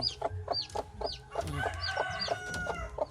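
A free-range village hen clucks in short repeated bursts alongside her newly hatched chicks, whose high thin peeps chirp rapidly around her, close and clear in a quiet farmyard.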